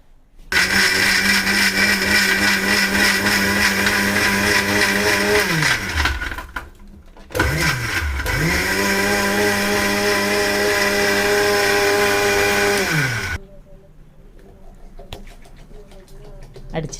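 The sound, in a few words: blender blending jamun fruit juice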